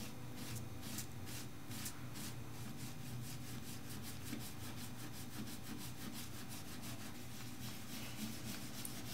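A sponge rubs Orion calf dye over a leather wallet back in steady, repeated back-and-forth strokes, a close, continuous scratchy scrubbing with no voices.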